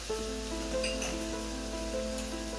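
Tomatoes going into a pan of sweating vegetables seasoned with smoked paprika for a sauce, giving a steady, close sizzle that holds evenly throughout with faint stirring, no talking.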